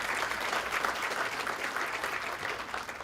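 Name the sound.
audience applause at a keynote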